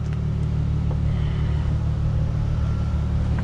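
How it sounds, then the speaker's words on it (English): A 2001 Plymouth Prowler roadster with its top down cruises with a steady, low engine drone and rumble, heard from inside the car at an even level with no talking. "let's go ahead and drive the little Prowler and see how she performs and sounds with the top off"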